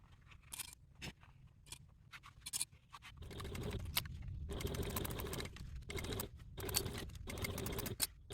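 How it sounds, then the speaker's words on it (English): After a few clicks and handling noises, a sewing machine starts top stitching along the edge of a crossbody bag, running in steady close bursts that are interrupted by brief pauses. "take to the machine and top stitch at a 1/8 seam allowance from the top edge"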